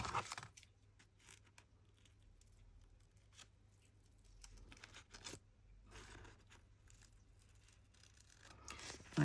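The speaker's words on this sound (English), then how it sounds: "My scissors are not enjoying the glue." Scissors snip and scrape through glued book pages while making large envelopes, giving faint intermittent cuts and rustles close by, with no talking.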